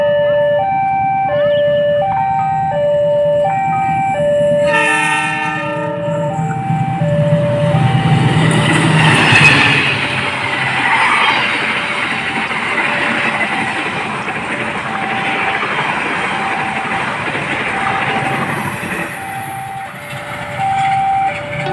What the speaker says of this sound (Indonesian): Ini kereta api Taksaka persiapan melintas langsung stasiun Tanjung.